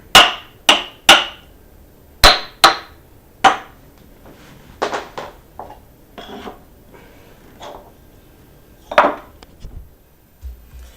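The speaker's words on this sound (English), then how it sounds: "We're going to hammer down our wedges." Wooden wedges being hammered down onto the ropes of an atabaque drum, a series of sharp, loud knocks in quick uneven bursts with quieter taps in between, close by.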